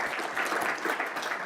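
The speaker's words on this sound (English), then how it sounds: "let's have a round of applause for Marjorie." Brief audience applause at a Stanford energy welcome event, a steady wash of many hands clapping at moderate volume.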